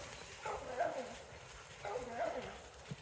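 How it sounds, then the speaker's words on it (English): A hound dog barks at possums outdoors at night, two short bursts of barking a second or so apart, moderately close, with a person talking over it. "She's barking at the possums"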